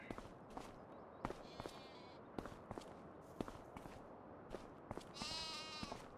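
Goats in Farming Simulator 25 bleat in short quavering calls, one around the middle and a longer one near the end, over steady footsteps and faint farm ambience.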